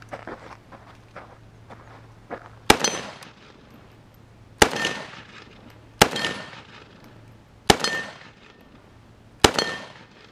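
Five sharp gunshots from an AK-47 fed by an Xtech magazine with a sheared rear lug, fired one at a time at uneven intervals of roughly a second or two, each loud crack followed by a brief echo, outdoors with no talking.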